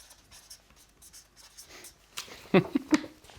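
A pen writes Norwegian knitting terms by hand on paper: scratchy strokes run close by and quietly at first, then a few firmer, louder taps and scrapes come near the end.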